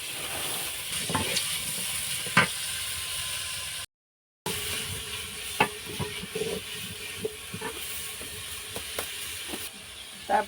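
Onions and chilies fry in hot oil with a steady, close sizzle and hiss, broken by occasional scrapes and clicks of stirring.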